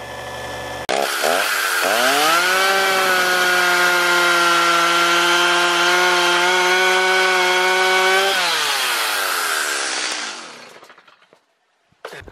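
Buffalo Corp. ECSS 50-watt electric sharpener grinding a worn chainsaw chain: a loud, sustained, close high-pitched whine that holds steady for several seconds, then winds down as the motor spins to a stop.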